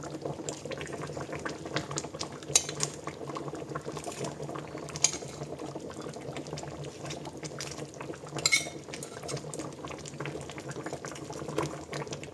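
Almond sauce with king prawns at a steady boil, a continuous bubbling simmer with occasional clinks of utensils against the pan, close and moderate in level, without speech.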